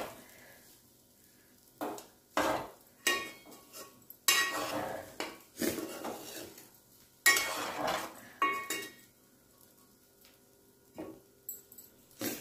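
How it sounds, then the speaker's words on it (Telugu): Mint rice tossed and stirred in a pan, with repeated bursts of metal spoon scraping and clinking against the pan between quieter pauses, close and fairly loud. "ఈ అన్నం అంతా మొత్తం కలిసేటట్టు కలుపుకోవాలి"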